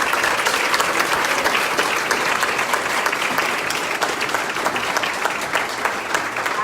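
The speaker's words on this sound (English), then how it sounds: "Please give her a huge round of applause" Audience applause for a chamber of commerce honoree at a New Year reception and awards event, dense and steady throughout, a full room clapping loudly without pause and no voices over it.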